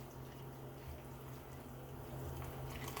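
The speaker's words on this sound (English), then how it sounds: "we get a cup of hot water just like this. And I pour it on top of my soup, my noodles." Hot water poured from a cup over instant noodle soup in a container makes a faint, continuous trickle and splash at close range, alone and steady.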